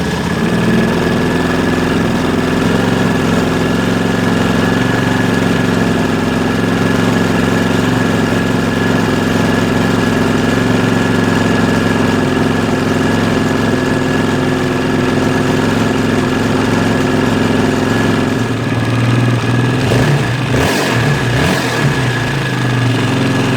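A 2006 KTM 640 LC4 single-cylinder motorcycle engine idles steadily while warming up, a close, loud, continuous mechanical thrum that runs throughout and shifts in tone near the end as something changes briefly.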